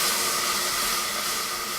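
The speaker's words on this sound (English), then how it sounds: "you then deglaze with our half a cup of wine" A hot pan with translucent, browning onions hisses loudly as half a cup of wine is poured in to deglaze it, a steady, close, bright sizzle that holds for the whole moment with no talking.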